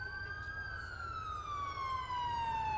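A police car siren in the video game GTA IV with the LCPD:FR mod, a slowly descending wailing tone, clear and sustained over a low engine hum.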